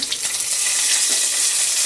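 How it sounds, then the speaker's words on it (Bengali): Fish frying in a wok of oil with turmeric, a dense steady sizzle and bubbling hiss heard close, without any talking. "মাছগুলো ভাজা হয়ে গেছে, এবার তুলে নেবো"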